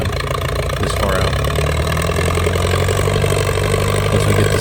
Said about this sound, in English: I'm really surprised how well this tractor can come back from such low RPM this far out.